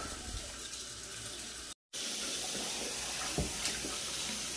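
Steady running water rinses soap off a hat under a tap, a loud continuous gush that cuts out briefly and then resumes, with no voices.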